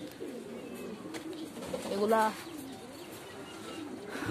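Soft pigeon cooing in a farm of local and foreign breeds, including same-mutation scent pigeons, faint and steady beneath someone talking.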